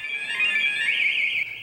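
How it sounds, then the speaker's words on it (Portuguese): A motorcycle anti-theft alarm sounds in a steady, loud electronic tone that holds continuously with slight wavering, close and alone. "O som é um alerta."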